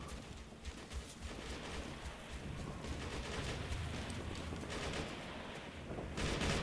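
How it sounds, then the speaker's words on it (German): Distant, muffled gunfire crackles over a steady roar of background noise, continuous and dense rather than distinct shots, in a battle scene in the video game Operation Flashpoint: Red River. "Ich höre Schüsse!"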